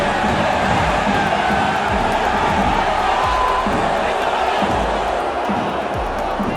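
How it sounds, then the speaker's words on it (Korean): Indonesian football fans in a stadium taunting Chinese fans during a match, a loud, sustained crowd roar with chanting, whoops and a few sharp bangs throughout. "첫 골이 들어가자마자 인디 관중들이 중국 관중들에게 앞서받은 도발을 되갚아주고 있습니다"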